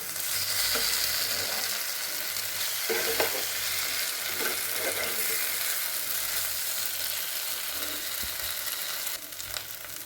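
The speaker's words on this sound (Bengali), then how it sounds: "আলুটাকে একটু কষিয়ে নিই।" Potatoes frying in oil in a pan, a constant close sizzle with scraping stirs of a spatula across the pan at irregular intervals, no talking.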